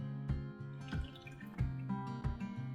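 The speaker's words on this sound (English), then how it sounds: "we're going to very gently, slowly pour it into the bottom of the tray" Turkey stock poured slowly and gently from a pouch into the bottom of a roasting tray, with soft repeated drips and small splashes over a steady low hum and no talking.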